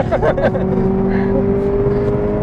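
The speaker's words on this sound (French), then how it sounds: "Et ça prend du régime tout le temps, c'est ça qui est marrant. C'est vrai que ça gueule." A Renault Clio RS3's engine climbs in revs under acceleration, heard loud from inside the car as a steady, droning roar with a sustained tonal whine, with a brief voice near the start.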